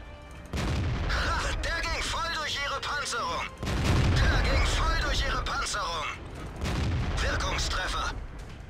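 Repeated heavy tank cannon blasts from World of Tanks ring out at irregular intervals, loud and booming, with someone talking over them.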